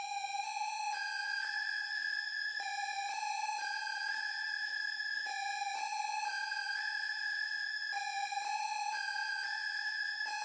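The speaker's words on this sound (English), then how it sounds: "It's a very simple lead, kind of like a witch house type of sound." A thin, simple witch house style synth lead plays a slow, repeating melodic phrase with clean sustained notes, quiet and alone without drums or voices.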